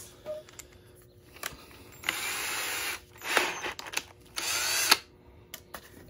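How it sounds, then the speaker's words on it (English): A power drill spins a Q-tip polishing the inside of a car carburetor, with short and longer whirring bursts separated by pauses, clicks and handling noise, close by and with no talk. "Then we're gonna put that Q-tip in a drill and we're gonna push it down in there."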